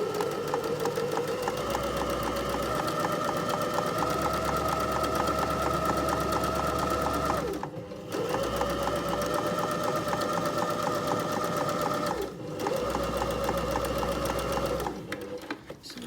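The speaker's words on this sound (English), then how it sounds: "stitching my seam using the guideline on my needle plate" A sewing machine stitches a curved hem seam along the needle-plate guideline, running steadily and close up with a fast, even whir, pausing briefly twice before starting again.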